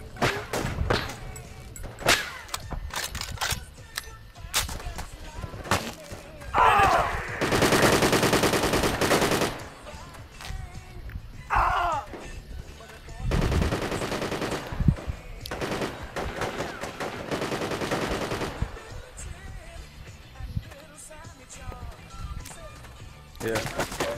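Gunfire in the tactical military shooter Project Reality during a tunnel defence on Kozelsk: repeated long machine-gun bursts and scattered single shots, loud and close, with players talking over the fighting.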